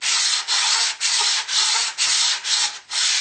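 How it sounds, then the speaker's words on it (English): Sandpaper on a pad rubs back and forth across model ship frames in quick, regular strokes, about six or seven bright scratchy passes separated by brief pauses, close and alone. "So I just grabbed myself a bit of sandpaper with a bit of a pad"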